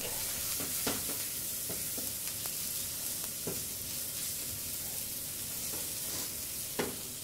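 Shallots and garlic sizzle in a hot pan, a steady, even frying hiss throughout with a few soft taps and clicks from stirring.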